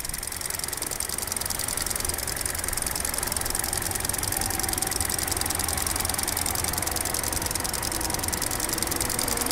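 A 2020 Kia Rio's 1.6 engine idles under an open hood, a steady even hum with a light ticking texture, constant and fairly near.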